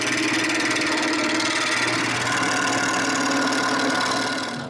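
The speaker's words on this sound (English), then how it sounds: "I turn this a little rounder on the lathe." A wood lathe turns a small, long handrail piece, giving a loud, continuous whirring drone with a rough vibrating edge that runs steadily and cuts off at the end.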